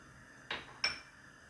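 A metal cooking pot is handled before oil goes in, giving two quick, ringing clanks about a third of a second apart against a quiet background.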